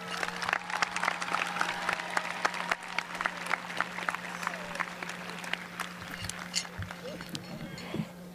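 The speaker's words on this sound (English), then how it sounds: "let's hear a round of applause for the graduates" A crowd at the St. Charles High School 2023 commencement applauds the graduates with a long, lively stretch of clapping and some cheering voices, over a low steady electrical hum.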